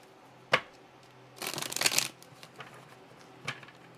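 Tarot cards are shuffled up close with no talk: a single sharp snap, then a dense half-second riffle burst, and a softer tap near the end.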